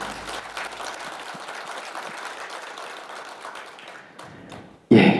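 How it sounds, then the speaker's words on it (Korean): Audience applause at a Seoul city policy debate forum, sustained steady clapping filling most of the clip, fading toward the end before a brief loud burst. "다시 한번 큰 박수 부탁드립니다"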